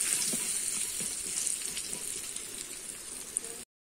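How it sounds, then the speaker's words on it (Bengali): Potato pieces frying in oil with salt and turmeric, giving a soft, even, continuous sizzle at a low level throughout with a faint occasional clink, no speech. "দিয়ে দেবো লবণটা আর একটু হলুদ দিয়ে আমি ভালো করে আলুটা ভেজে নেব"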